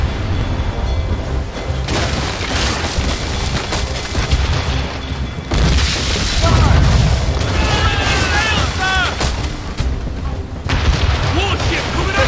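Warship cannons firing in a naval battle in Assassin's Creed Rogue, with deep booming blasts and rumbling impacts over game music and crew shouting.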